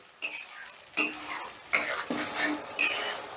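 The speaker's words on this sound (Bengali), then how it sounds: "এবার টমেটো বাটাটা দিয়েও বেশ কিছুক্ষণ কষে নেব" Tomato paste cooks down with spices in a pan while a spoon scrapes and knocks against the metal. The strokes come in separate bursts about every half second to a second, with quieter sizzling between them. No voices.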